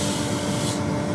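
Wood turning on a lathe while the piece for an insert clock is sanded with 240 grit abrasive: a steady, close rubbing hiss that holds even and continuous from start to finish.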